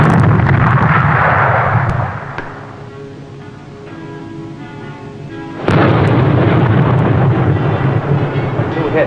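Torpedo explosions against ships in a wartime naval drama: a loud heavy roaring blast that fades into a low rumble, followed by a second sudden loud explosion with a long thundering tail.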